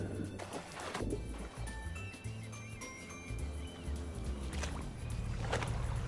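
Rowing boat moving across water in the Roblox game Fishing Simulator, with continuous splashing and creaking game effects and faint chiming tones over a steady low hum.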